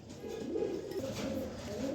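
Racing pigeons cooing in a loft, soft low rolling coos that swell and fade close by, quiet and without talk.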